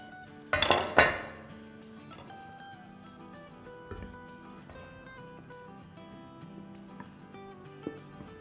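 Soup being served out into dishes gives two loud, close clatters of pots and dishes near the start, then sparse, quieter clinks over a low background.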